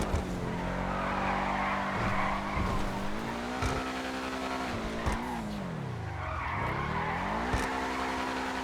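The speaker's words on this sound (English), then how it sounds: "It's just a race car. This car is designed for speed and nothing more." A race car in Grand Theft Auto V growls close up with a steady engine tone that dips and climbs through gear changes and cornering, its tires squealing and skidding throughout, with no talking.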